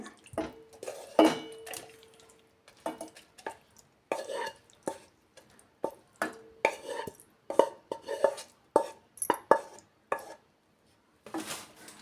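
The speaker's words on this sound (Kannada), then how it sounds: "ಈ ಥರ ಒಂದು ಜಾರಿ ಇಟ್ಕೊಂಡು ಈ ಥರ ಸೇರಿಸ್ಕೊಳ್ಳೋಣ ಜಾರಿಗೆ" Cooled tomato chutney mixture being scooped into a mixer jar, with a run of close, irregular spoon scrapes, taps and clinks against the jar, sounding in short bursts separated by brief pauses.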